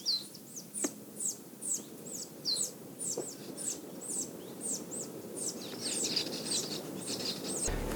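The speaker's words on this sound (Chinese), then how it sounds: "自然鸟叫的声音" Wild birds in a thick South African forest sing outdoors, repeating quick high chirps and tweets in a steady rhythm over a soft background hush.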